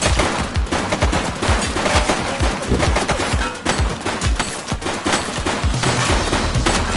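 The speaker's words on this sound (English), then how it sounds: "Shots fired!" Sustained, dense gunfire rages in the police video game The Precinct, with loud overlapping shots rattling continuously for several seconds without letup.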